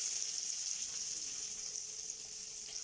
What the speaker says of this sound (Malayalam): ഉണക്കമീൻ ഫ്രൈ ചെയ്ത ചട്ടിയിലേക്ക് നമുക്ക് ഉള്ളി ആഡ് ചെയ്ത് കൊടുക്കാം